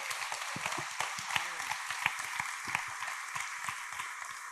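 A church congregation claps in moderate applause, scattered and uneven hand claps that swell slightly and hold at a medium level, with faint voices underneath.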